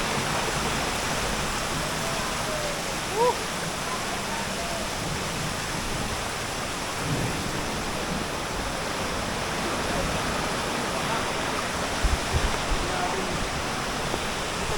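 Steady, loud rush of fast-moving floodwater filling the whole clip, with faint voices and a few small knocks underneath.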